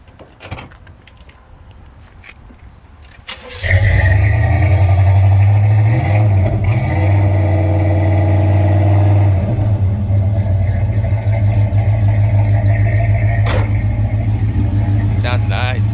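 After a few seconds of quiet, a 1986 Chevrolet Monte Carlo SS with a Flowmaster exhaust cranks and fires up loudly, then settles into a deep, steady rumbling idle as voices talk nearby.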